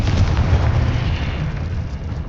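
A Confringo blasting spell explodes in the Hogwarts Legacy video game, a loud rumbling blast that slowly fades away across the short clip.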